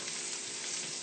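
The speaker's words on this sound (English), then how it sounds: "I'm going to give my green onions and my shallots a nice bath in the oil." Green onions and shallots fry in hot oil in a wok, giving a steady, dense sizzle that stays even and close throughout, with no voices.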